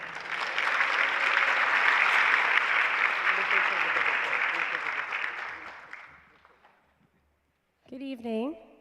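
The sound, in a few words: audience applause for the woodwind choir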